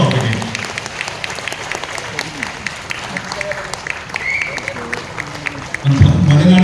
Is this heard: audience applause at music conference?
yes